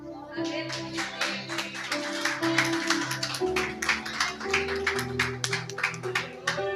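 A church congregation claps steadily in rhythm during an afternoon service, sharp repeated hand claps over sustained organ-like tones, lively and continuous throughout.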